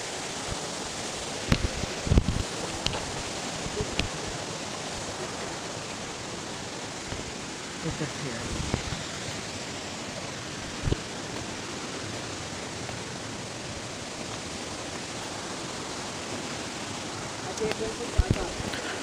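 Spring water from a mountain source near the Grata waterfall in Azad Kashmir, a steady broadband rushing wash running the whole time with a few brief knocks, while someone talks over it.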